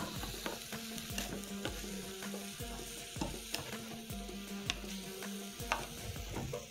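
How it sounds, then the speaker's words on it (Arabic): Onion and chicken with spices fry in a pan while a spoon stirs them, giving a steady close sizzle broken by regular scraping strokes, and no one speaks. "وهحط ايه رشة بقى البهار الجميل بتاعنا دوت، وهقلب هنا."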